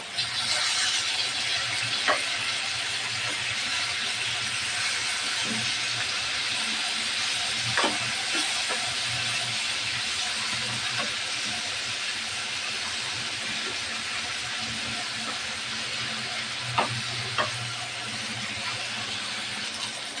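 Fish frying in oil makes a constant dense hiss, close and even throughout, broken by a few sharp clicks and pops.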